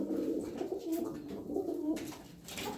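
Pigeons coo nearby in a steady stream of soft, throaty, rolling calls, several birds overlapping with no speech.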